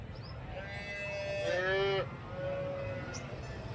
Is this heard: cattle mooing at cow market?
yes